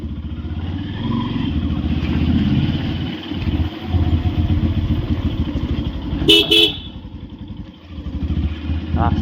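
A motorcycle horn beeps twice in a short burst over the steady near rumble of a bike's engine on an empty road on a winter morning, with a voice speaking over it.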